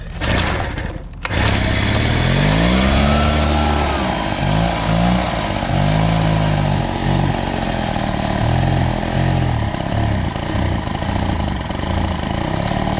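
Husqvarna 130BT leaf blower's small two-stroke engine catches after a brief pause and then runs continuously and loud, holding a steady buzzing drone with slight wavering pitch for the rest of the stretch.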